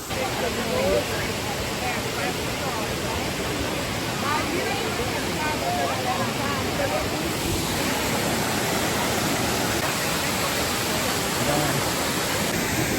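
A waterfall at a busy tourist spot in Hawaii roars in a dense, steady wash of noise, loud and unbroken throughout, with faint crowd murmur mixed into the rush.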